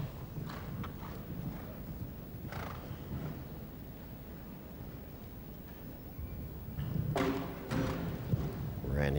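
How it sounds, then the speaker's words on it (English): A show jumping horse at the 2001 World Cup in Gothenburg, Sweden, gives soft hoof thuds and clip-clop in an arena, moderately distant, under a commentator's talk and crowd murmur. "riding his other top horse, Figaro's Boy."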